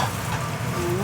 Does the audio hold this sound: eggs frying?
yes